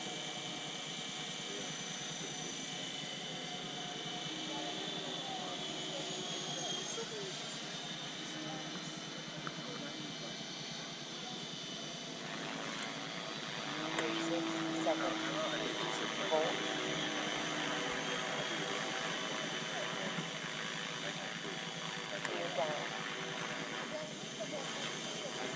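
A Freewing MiG-29 Fulcrum RC model jet flies in a steady, continuous hissing whine at moderate distance, growing louder partway through, with faint voices in the background.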